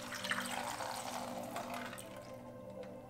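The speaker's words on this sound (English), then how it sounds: "don't forget to add water to the bottom of the pressure cooker" Water is poured into the bottom of a pressure cooker while preparing mycelium liquid culture, a steady splashing fill that runs close and fairly soft for about three seconds, tapering slightly near the end.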